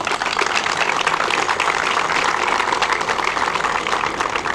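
An audience applauds steadily at an official announcement event, a dense and even wash of many hands clapping at once, sustained throughout without a break.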